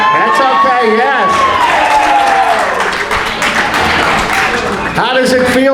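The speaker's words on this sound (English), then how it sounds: "How does it feel to get that kind of applause?" Applause at a Southridge Raider Football pep gathering: loud, sustained crowd clapping and cheering fill the scene, with voices calling out over it.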